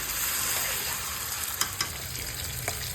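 Mutton fries with onion and garlic in a pan, a close, dense, steady sizzle with a few faint clicks of stirring. It lasts only a few seconds and no one talks.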